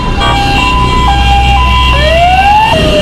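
An ambulance siren on a Venezuelan street, loud and close, with rising and falling wail tones repeating over a low traffic rumble.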